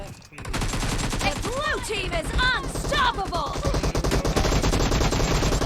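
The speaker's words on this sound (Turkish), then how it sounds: "buradan Uzi ile oynuyor" Rapid bursts of Uzi submachine gun fire in PUBG Mobile, loud, dense and continuous over game music, with a voice talking over the shooting.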